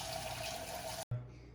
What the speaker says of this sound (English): you're gonna fill your pan up, or your saucepan up with water.